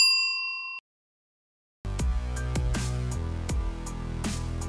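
A notification bell ding: a short, bright chime with a clear ringing tone, then a second of silence before layered bell-like musical notes begin and continue to the end.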